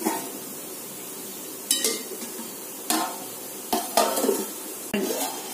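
A spoon stirs sprouted horse gram gravy in a pot, with five or six sharp metallic clanks against the pot over a low simmering hiss and no talk.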